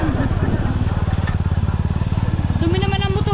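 Adventure motorcycle engine idling up close, a steady rapid low-pitched thrum pulsing evenly throughout, with no talk over it.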